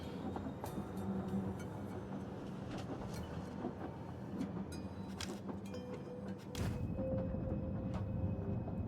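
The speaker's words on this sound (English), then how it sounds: "The clatter of the train, the rattling of metal cabinets, nothing really striking or unusual." Steady clatter of a moving train with metal cabinets rattling inside the car, a continuous dense rumble and clicking that grows slightly heavier toward the end, with no talk over it.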